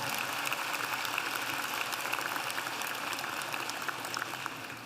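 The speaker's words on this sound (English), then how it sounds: "Let's give all of our support people a round of applause." Large commencement crowd at American University in Washington applauds support people, a steady, even roar of many hands clapping that continues throughout without any voices.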